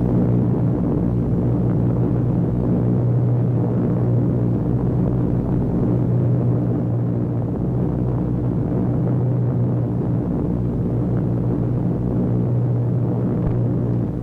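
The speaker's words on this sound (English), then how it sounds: "The thunder of engines makes the earth tremble and the ravens rise." WW2 bomber aircraft engines at an Aleutian Islands airfield give a loud, steady, deep droning rumble that holds without a break, with no voices over it.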